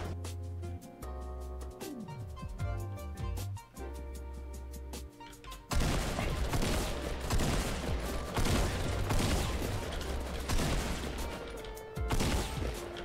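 Fortnite gunfire in a game match: dense, loud bursts of rapid shots and booms crowd the second half, following quieter in-game tones and effects at the start.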